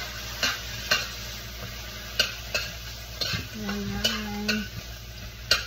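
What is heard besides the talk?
eggs frying and being stirred in a pan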